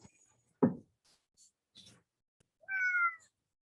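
A pet cat meows indoors in a bedroom with a dog nearby, one clear drawn-out meow near the end after a few soft bumps and rustles, close and fairly loud.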